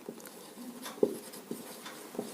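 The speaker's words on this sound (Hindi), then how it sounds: "यहाँ लिखता हूँ मैं" Chalk or marker strokes tapping and scraping on a classroom board during a physics lesson, a few short soft taps with light scratching between them, close and fairly faint, with no talk.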